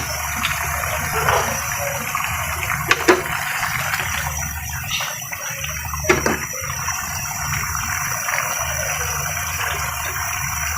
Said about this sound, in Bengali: মাছের মধ্যে আমি এখন একটু পানি দেব।